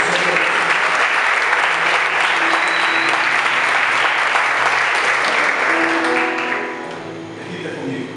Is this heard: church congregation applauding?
yes